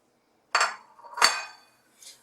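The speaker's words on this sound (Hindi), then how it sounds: "और इसे अच्छे से मिक्स कर लेंगे।" Chicken pieces being mixed into spice paste in a bowl, with two close clinks and scrapes of a utensil against the dish and a faint third knock, surrounded by silence.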